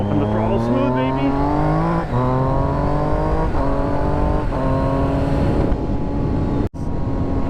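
A motorcycle on a track day, its engine wailing loudly and close. Several rising pitch sweeps follow one another as the throttle opens and gears shift, with a brief dropout near the end.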